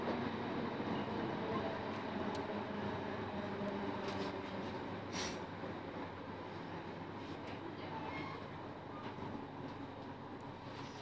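A London Overground-style passenger train on the Chingford to London Liverpool Street line rumbles steadily at a constant loud roar, with faint rhythmic wheel noise and occasional brief squeaks, no voices.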